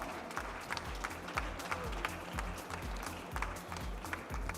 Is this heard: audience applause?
yes